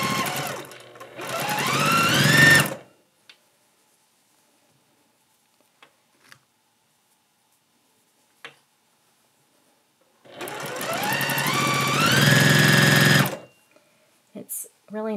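A sewing machine pieces sections of a scrappy Irish chain quilt in two loud, steady bursts of rapid stitching, each about three seconds long, with quiet pauses and small clicks between them.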